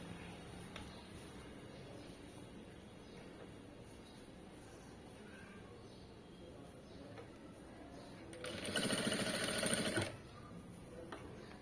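A sewing machine stitches thread piping in one short, fast burst of rapid stitching, rising above a quiet room hum near the end.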